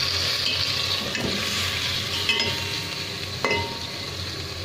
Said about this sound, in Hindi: इसके बाद मैं इसमें डाल दूँगी मटन चॉप, और इसकी कर दूँगी अच्छे से भुनाई।